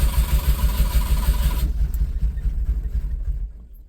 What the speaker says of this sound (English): I think the spark plugs are fouled up, so when you try to start it, it kind of tries, but don't.